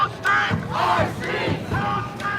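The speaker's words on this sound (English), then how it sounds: "This is the crowd behind us." A protest crowd at a downtown Los Angeles immigration raid shouts in rising, chanting waves from behind, loud and sustained with no clear single voice.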